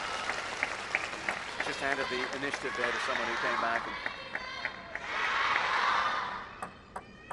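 A table tennis arena crowd at a women's World Cup match in Macao breaks into applause and cheering, the clapping building into a swell of roaring voices after a rally, with a commentator talking over it.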